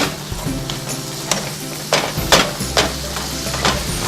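Ground beef sizzling in a pan while seasoned with paprika and cumin and stirred in, a loud, close crackle with repeated scraping strokes of a utensil and no talking.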